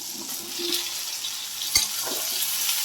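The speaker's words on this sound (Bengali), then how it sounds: "এবার আলু আর বেগুনটা কেটে রেখেছি সেটা দিয়ে দিচ্ছি" Cut potato and eggplant go into hot oil in a pan, raising a steady close frying sizzle with one sharp clack of a utensil partway through.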